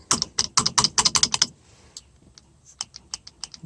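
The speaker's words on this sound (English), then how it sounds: "Hear the relay clicking" A relay on a 1965 Ford Mustang gives rapid bursts of sharp mechanical clicks in quick runs, pauses, then resumes more sparsely and quietly, chattering on and off.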